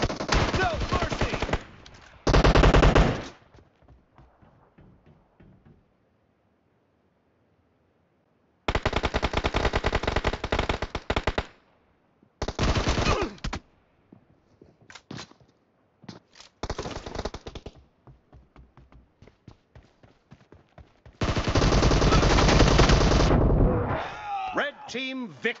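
Rapid machine-gun bursts in a team shooting video game come in loud, clipped volleys separated by gaps of near silence, with single shots between them. Game voice lines speak over the firing.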